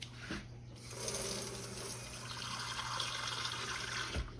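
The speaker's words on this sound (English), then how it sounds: "Get my little hot water here" Hot water pours from a tap in a home kitchen during cookie baking, a steady close rush of running water lasting a few seconds, framed by a soft knock at the start and end.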